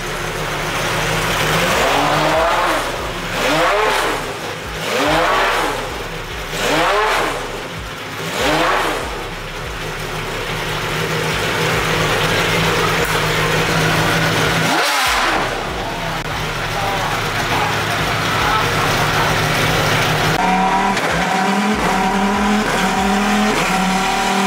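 A Pagani Zonda R hypercar at a hypercar gathering on a race circuit, heard as loud, nearby engine revving in rising and falling bursts with a brief cut-off, then more revving; faint crowd voices sit underneath.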